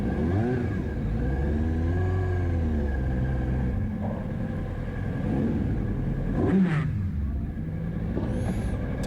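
Kawasaki-engined race car idling in a queue of about 30 Formula Fords waiting to go onto the Mettet circuit, a loud, close, continuous engine drone with slight revs and clatter throughout.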